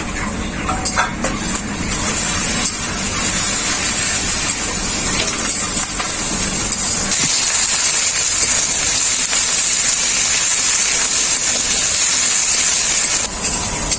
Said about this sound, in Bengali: আদা রসুনটাকেও আমি খুব ভালো করে ভেজে নিয়েছি